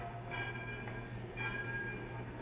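A train running steadily for the length of the clip, a continuous low rumble with faint high metallic tones drifting through, heard from inside as a sound effect in a 1949 radio drama.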